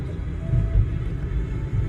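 Low, steady road rumble inside a moving car, a constant near drone with mild swells and no talk.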